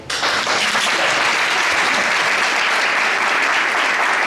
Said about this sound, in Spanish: Ahora pueden aplaudir